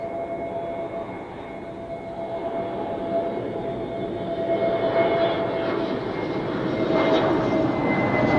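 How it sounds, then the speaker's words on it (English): An Airbus A340 departs Zurich Airport with a loud, sustained roar of engines that swells gradually over several seconds, a broad steady rumble with a faint high whine on top. "Looks like we could have 3 A340 departures in a row"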